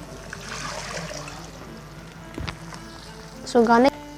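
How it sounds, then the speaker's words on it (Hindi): Water is poured into a pan of fenugreek leaves and potato cooking in oil, a soft trickling and splashing under low kitchen noise, followed by a brief voice near the end. "इसको गालने के लिए मैंने इसको पानी डाला इसके अंदर"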